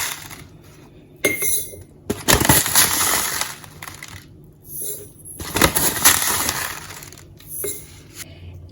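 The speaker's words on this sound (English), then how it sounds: "So I'm going to take 3 tablespoons of these seeds." Broccoli seeds are spooned into a glass mason jar for sprouting, giving bursts of gritty rattling and clinking against the glass, repeated in several scoops with quiet gaps between.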